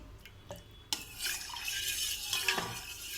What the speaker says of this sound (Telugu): ఈ పాలు, జున్ను పాలు ఇలా కలుపుతూనే ఉండాలి, లేకపోతే అడుగు అంటేస్తుంది